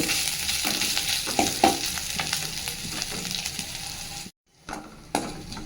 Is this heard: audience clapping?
no